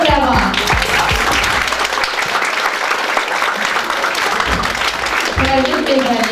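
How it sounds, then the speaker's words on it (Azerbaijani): Sustained audience applause fills a school hall as students are called onto the stage at a chemistry event, steady clapping with a voice heard over it briefly at the start and end. "Həmin şagirdləri səhnəyə dəvət edirik alqışlarınızla."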